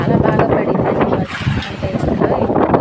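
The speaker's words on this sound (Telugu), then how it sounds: "చూడండి ఎంత గాలి వేస్తుందో." Strong, gusty wind ahead of rain roars and buffets loudly and continuously against the microphone, with only a brief lull in the middle.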